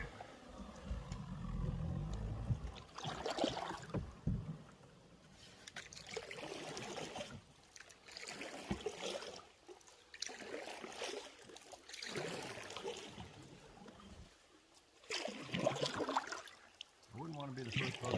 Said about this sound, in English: Let me know when you want me to start paddling.